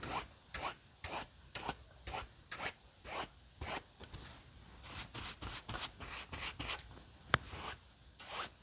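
A paintbrush wiped repeatedly on a paper towel while painting a northern lights scene, producing quick rhythmic scratchy swipes close up, about two per second, with one brief tap near the end.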